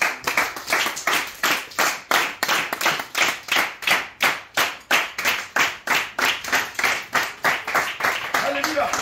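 A congregation at a worship service claps in a steady, rhythmic beat, with many hands sounding together loudly and evenly for the whole stretch.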